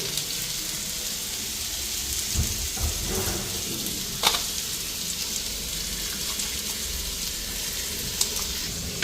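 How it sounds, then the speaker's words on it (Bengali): Potatoes frying in hot soybean oil give a steady, close sizzle and crackle, with a few sharper pops and stirring clatters rising above the continuous hiss. "আলু ভাজাগুলি দেখো লাইগেই হচ্ছে তেল এত গরম করে দাও"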